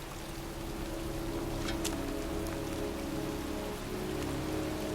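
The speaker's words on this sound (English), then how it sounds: "standing in a cemetery in pouring rain" Pouring rain in a cemetery in the video game Heavy Rain, a dense, steady hiss of heavy rainfall on surfaces, continuous and enveloping with no voices.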